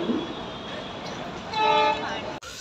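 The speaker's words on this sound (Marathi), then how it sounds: "तर ही आपली ट्रेन, आपण ट्रेनमध्ये बसलेलो आहे" Steady rumble of a moving train from inside a carriage, with a brief horn-like tone rising over the noise midway.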